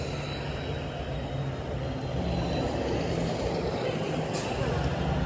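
Buses idle and move near Old Mill subway station in Etobicoke, Toronto, a low rumbling engine drone with steady street noise and a faint brake hiss.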